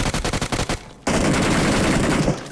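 Automatic weapon fire in the battle royale game BGMI: a sharp burst of rapid shots, then a sustained dense volley of gunfire, loud and close.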